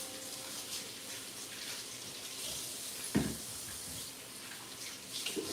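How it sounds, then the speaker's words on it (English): Tap water running over hands in a home kitchen, a faint, steady hiss of flowing water with one brief splash or knock partway through. "I'm going to give my hands a quick rinse."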